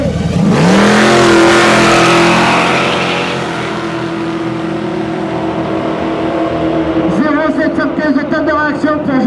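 Two drag racing cars, one naturally aspirated and one supercharged, launch together on a 400-metre strip, loud engines roaring and rising in pitch close by, with a commentator talking over them.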